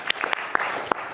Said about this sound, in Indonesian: kita beri tepuk tangan buat generasi Z yang terus bersuara.